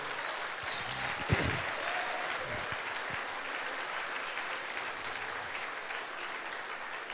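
Church congregation applauding, a steady broadband patter of many hands that holds at moderate loudness from start to finish, with a brief voice near the beginning.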